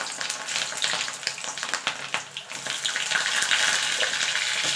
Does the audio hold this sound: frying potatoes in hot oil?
yes